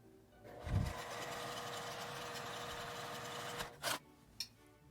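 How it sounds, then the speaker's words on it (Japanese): A sewing machine runs a continuous edge stitch along the lining fabric of a cloth mask, a steady close mechanical whir for several seconds, then stops with a couple of short clicks. "裏布をこのようにスライドさせて上に端ミシンをかけます。"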